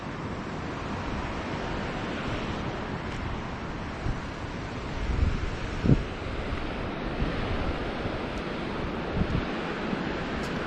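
Wind gusts steadily across the Nam Ngum 3 dam site in Laos, a constant roaring rush buffeting the microphone with a few brief thumps, and no voices.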